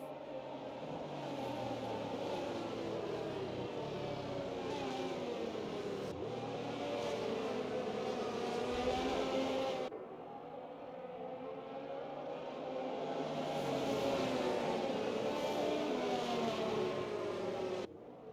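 F1 race cars lap Imola in a racing video game, their engines a continuous high, revving whine with shifting pitch that rises and falls as cars pass, loud and close, with one abrupt cut partway through.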